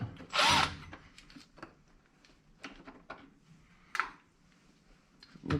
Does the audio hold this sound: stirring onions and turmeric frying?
no